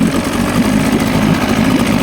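An outboard motor revs loud and close with a dense, rumbling drone, its pitch holding fairly steady through a brief stretch.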